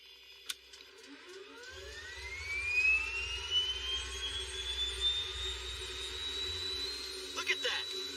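Aircraft propeller engine on a port side starting up, a rising whine climbing steadily in pitch over several seconds as a low rumble builds underneath, loud and close, with a brief clack near the start and some knocking near the end.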